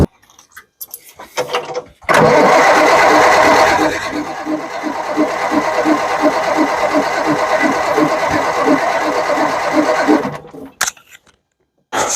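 A long-parked homemade RV's Perkins diesel engine cranks and catches with a loud burst, then settles into a steady rhythmic diesel idle for about eight seconds before shutting off.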